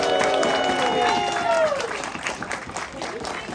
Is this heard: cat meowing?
no